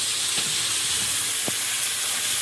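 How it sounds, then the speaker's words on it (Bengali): Pieces of taro frying in a pan of hot oil, with a steady broad sizzle running throughout and a few brief clinks or stirring taps. "এপাশে কচুটা চালিয়ে দেবো"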